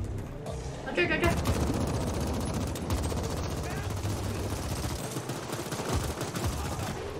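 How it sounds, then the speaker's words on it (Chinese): Enemy gunfire rattles in the co-op shooter game The Ascent, dense rapid bursts of automatic shots and sharp cracks sounding steadily and fairly loud, with players talking over the shooting. "他们也开枪啊"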